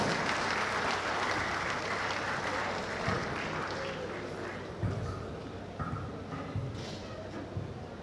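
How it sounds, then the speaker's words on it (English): A hall audience gives a warm, sustained round of applause to welcome a guest speaker at a Nigerian broadcasters' association event, dense clapping that fades slightly with a few louder claps near the end. "join me as I make welcome with a very warm round of applause this very outstanding intellectual"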